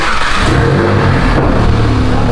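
A Volkswagen MK7 GTI engine with a catless downpipe starts and roars loudly and continuously up close, a harsh, raspy rumble with no voices.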